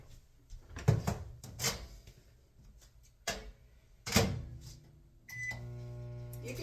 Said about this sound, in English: we're going to pop this in the microwave enough to melt it